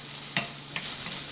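Tomatoes fry in a pan with a steady soft sizzle, broken by a couple of brief scraping knocks as a utensil stirs them.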